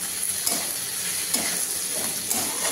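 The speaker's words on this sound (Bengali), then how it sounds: "তেলটা দিই আর এগুলো ভাজি আমি আস্তে আস্তে।" Potatoes frying slowly in oil in a wok, a continuous close sizzle with soft periodic scraping strokes of stirring about once a second, no talking.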